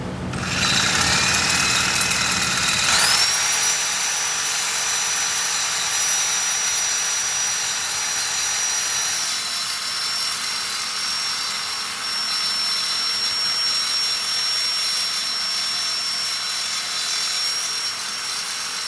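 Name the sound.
saw cutting metal for car frame repair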